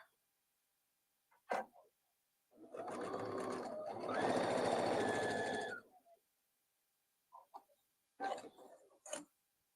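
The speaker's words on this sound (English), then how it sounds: "So we're going to go ahead and sew up those darts on the back." A sewing machine stitches darts on a fabric teddy bear in a quiet room, one sustained whirring run of about three seconds followed by a few short clicks and brief bursts.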